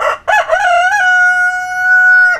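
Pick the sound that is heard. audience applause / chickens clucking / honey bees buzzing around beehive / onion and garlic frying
chickens clucking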